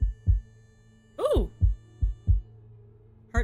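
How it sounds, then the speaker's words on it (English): Healthy heartbeat from the game Do No Harm, low thudding beats in a steady rhythm, clear and close, interrupted partway by a person's brief excited exclamation. "Heartbeat sounds healthy."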